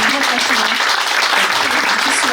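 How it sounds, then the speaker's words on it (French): Audience applause at a lecture on Moroccan Jewish thought, dense steady clapping filling the whole stretch with voices mixed in beneath it. "On l'applaudit très fort pour son engagement"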